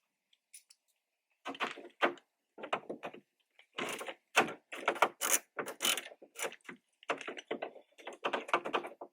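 A ratchet works loose the 10 mm side mirror bolts on a 2007 Honda Civic, giving close, quiet bursts of rapid clicking separated by short pauses.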